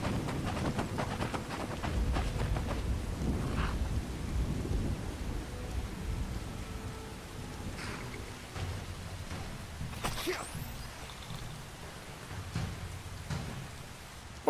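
Steady rain in the video game Skyrim hisses continuously at moderate level, with low rumbling underneath and a few brief sharper spatters along the way.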